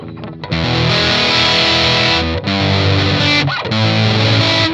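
An electric guitar plays loud, heavily distorted chords through a Boss HM-2 distortion pedal, ringing steadily with a brief break midway.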